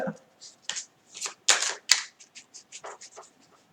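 A deck of 54 playing cards being shuffled close by, a quick run of crisp riffles and flicks in short bursts over a few seconds.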